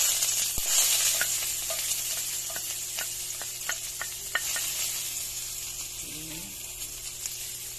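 Garlic sautéing in a pan gives off a close, steady sizzle, with a run of light clicks and taps from stirring and a faint voice briefly underneath.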